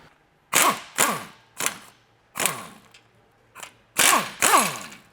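Ratchet wrench loosening 14mm sway bar bolts on a Toyota Tacoma during a lift kit install: seven loud, close bursts of rapid clicking, each about half a second, spaced irregularly with brief pauses between, no talking.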